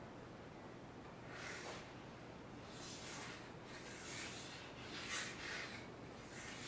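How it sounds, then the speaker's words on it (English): A knife blade is polished on a sharpening stone to remove scratches from a coarser stone, giving soft, quiet rubbing and rasping strokes in uneven bursts against a hissy background. "just going to polish out the scratches that we made with that coarser stone earlier."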